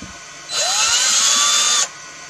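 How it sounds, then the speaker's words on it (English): Power drill bit widening screw holes in a 3D printed plastic shell, a loud high whine that spins up sharply, holds steady for over a second, then cuts off abruptly. "So I'm going to take a drill and a drill bit"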